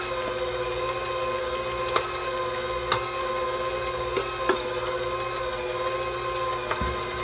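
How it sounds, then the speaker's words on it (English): A 6-quart stand mixer beats German chocolate cake batter with a steady, loud, high motor whine and hum, broken by faint periodic ticks of the beater against the bowl. "I think 6-quart mixers are louder than other mixers"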